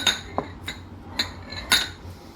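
A knife cutting carrots into half-moons and strips on a cutting board: about five crisp, sharp chops spaced irregularly, close and clear with a faint background hum, and no talk.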